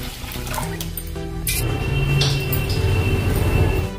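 Water pours into a large pot holding moong and masoor dal, a steady splashing rush that stays loud and continuous, with no talking.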